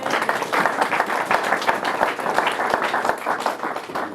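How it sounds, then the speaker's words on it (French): A church congregation claps at a thanksgiving service, producing a dense, steady patter of many hands that stays fairly loud throughout with no voices over it. "Acclamons le Seigneur."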